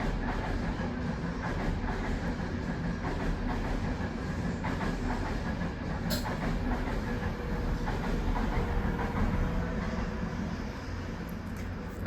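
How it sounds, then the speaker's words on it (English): A train rolls past close by, a loud, steady rumble with rail clatter and hiss that fills the whole stretch without letup. "Okay, the train is gone."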